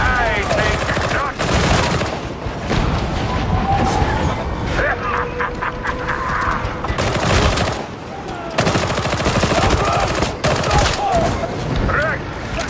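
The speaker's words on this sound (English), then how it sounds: "Can automated emplacement stop the great Maximilian Gregor" An automated turret emplacement in a video game opens fire, bursts of rapid gunfire and impacts, loud and repeated, mixed with game effects and a speaking voice.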